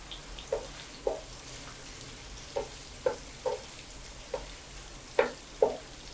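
Spring onion whites fry for egg fried rice, a faint, steady low sizzle punctuated by about eight soft, evenly spaced bubbling pops, with no talking.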